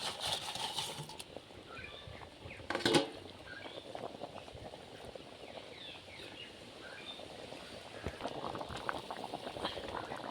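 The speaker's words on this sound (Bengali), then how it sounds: "ঝোল তো ফুটে গেছে" A pot of fish curry with spinach and small new potatoes bubbles steadily at a rolling boil, with a dense, continuous patter of bursting bubbles and a brief louder clatter near the start.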